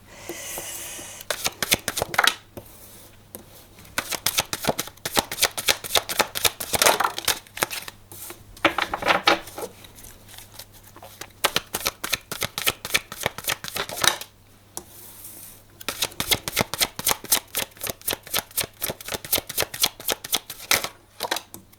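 Tarot cards shuffled by hand in repeated bursts of fast riffling flutter, close and crisp, with short pauses between rounds and no talking.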